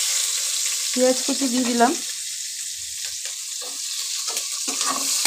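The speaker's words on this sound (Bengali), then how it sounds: "এবার পেঁয়াজ কুচিটাকে লাল লাল করে ভেজে নেব সবার প্রথমে।" Chopped onion fries in a pan for a fish roe fritter curry, giving a continuous close hiss of sizzling with occasional stirring clatter, while someone briefly speaks at the start.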